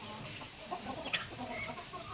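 A small brown hen makes soft, low clucks inside a box, with a few faint chirps over a steady background hiss.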